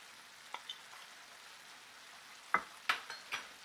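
Minced meat with green peas and garam masala powder being stirred in a pan, a faint steady sizzle broken by a few sharp spatula scrapes and clacks, close and quiet.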